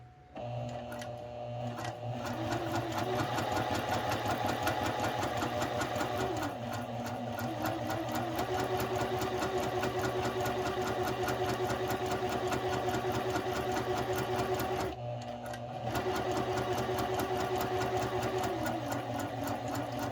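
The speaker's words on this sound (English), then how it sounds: "Now I'm going to put my foot down on the pedal and continue sewing." A sewing machine runs continuously at steady speed, stitching fabric with a dense, even mechanical whir that pauses briefly partway through and then resumes, close and loud with no talking.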